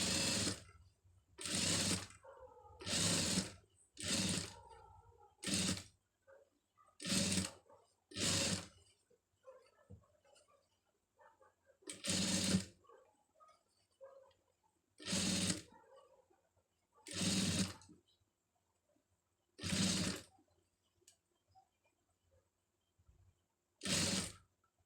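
A sewing machine runs in repeated bursts while stitching the edge seam on lining fabric for a pom pom design, each run a loud rapid whirring of a second or so, separated by quiet pauses, about a dozen times.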